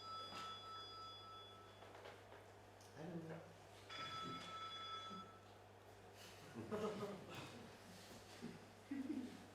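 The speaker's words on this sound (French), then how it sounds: "C'est vous qui avez commandé ce téléphone, Fletcher?" A telephone bell rings faintly in a theatre stage play, a few short rings in bursts against room noise and quiet stage movement.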